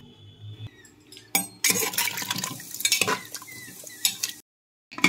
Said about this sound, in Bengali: এবার অবশ্যই পরিমাণ মতো জল দিয়ে দিলাম